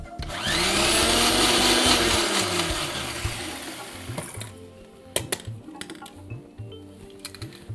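A kitchen mixer grinds millet chutney coarsely, roaring loudly for about four seconds before winding down, then the jar and lid give several close clatters and knocks.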